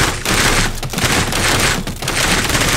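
Submachine gun fire in a horror video game: dense, loud rapid-fire bursts fill nearly the whole moment, broken by two brief gaps.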